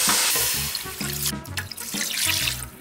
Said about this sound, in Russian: теперь добавлю 3 литра воды